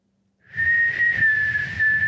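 A person whistles a single sustained, slightly wavering tone up close, starting after a brief silence and holding steady to the end, with a breathy undertone.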